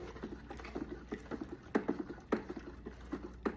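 Homemade laundry soap mixture being stirred by hand in a container, giving soft irregular scraping and tapping strokes with a few sharper knocks, close and fairly quiet with a low steady hum behind.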